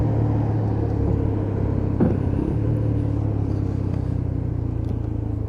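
Engine of a Lexmoto LXR SE 125cc motorcycle drones steadily while riding, a continuous low rumble mixed with road and wind noise, with no talking.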